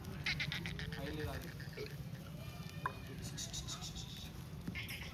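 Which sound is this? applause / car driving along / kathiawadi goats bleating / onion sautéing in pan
kathiawadi goats bleating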